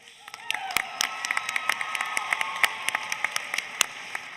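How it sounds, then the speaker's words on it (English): Scattered applause from the audience at the 2018 Iowa FFA State Leadership Conference general session for the Iowa FFA chorus, with crisp individual claps standing out over a softer crowd wash and faint cheering. "let's give a big round of applause for our 2018 Iowa FFA"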